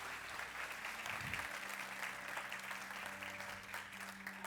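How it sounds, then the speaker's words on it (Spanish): A church congregation applauds steadily throughout, a dense wash of clapping with a brief low thump near the middle and a faint sustained tone underneath. "Dele un aplauso a Adrián."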